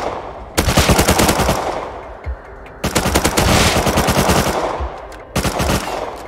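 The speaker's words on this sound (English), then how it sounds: "Someone shot the bridge off." Bursts of rapid automatic gunfire in the survival game Rust, three long, loud, dense volleys separated by brief pauses, close and with no talking.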